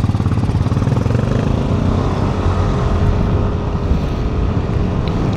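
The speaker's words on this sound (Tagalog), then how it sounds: "Kung birit talaga yung motor na to eh." A Yamaha Nmax V3 standard motor scooter engine drones loud and close with a rough, steady rumble and wind-like noise, holding at a constant pitch without clear revs.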